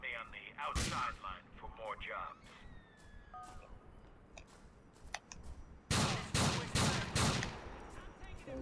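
Gunfire in Grand Theft Auto IV: scattered shots early, then a loud close volley of several rapid gunshots near the end, over game ambience with someone talking.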